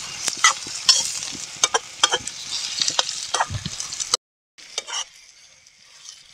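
Whole spices and onions frying in a pan and being stirred at a forest campsite in Uttarakhand after drizzle: close, steady sizzling with scraping stirs, a short break, then quieter frying.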